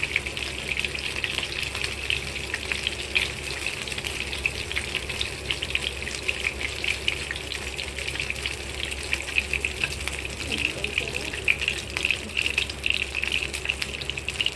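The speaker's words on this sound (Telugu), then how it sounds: "ఇప్పుడు ఇందులో మనం ఫిష్ వేయించుకుందామండి." Fish frying in hot oil for biryani, a steady bright sizzle and crackle running continuously, close and fairly loud with no voices.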